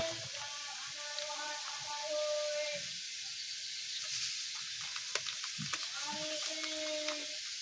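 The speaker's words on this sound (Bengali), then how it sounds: "আমার আলুটা ভাজা হচ্ছে" Potatoes fry in a pan for jhinge aloo posto, producing a soft, steady sizzle, while a voice speaks over it and light clicks and taps sound intermittently.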